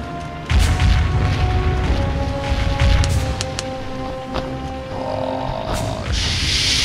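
Cannon fire in a Pirates of the Caribbean video game: heavy low booms rumble repeatedly throughout, loud and continuous, with sharp transient cracks layered over a droning game soundscape.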